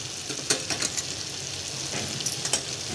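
Tomato paste with coriander powder fries in a pan for misal pav, a soft steady sizzle broken by several light stirring scrapes and clicks, quiet and close with no talking.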